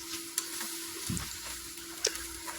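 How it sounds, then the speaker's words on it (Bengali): Bitter gourd fried in a pan being stirred, with a soft continuous sizzle and a few brief scraping clinks from the utensil, fairly faint and without talk. "এভাবে নেড়ে চেড়ে তারপরে সেদ্ধ করে নিব"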